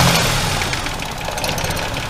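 A Geo Metro engine runs steadily close by in a continuous rough mid-pitched drone that wavers slightly, as if struggling to stay running, with no talking.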